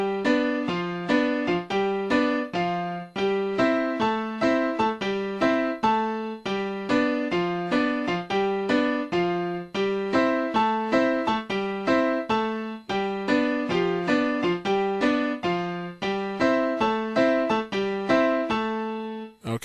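Merengue piano with both hands playing together, a dense, driving pattern of bass octaves under syncopated right-hand chords, steady and loud throughout with no talking.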